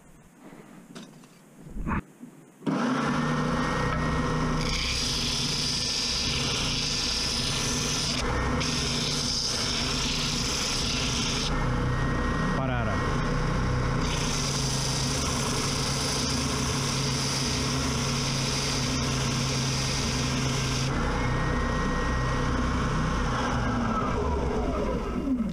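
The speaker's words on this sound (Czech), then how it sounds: "Zkusím něco brousit." A Triton TSPST450 450-watt oscillating spindle and belt sander runs close by with a steady loud motor whine and sanding rasp, starting after a few quiet clicks and holding on continuously with slight shifts in pitch as the workpiece is pressed.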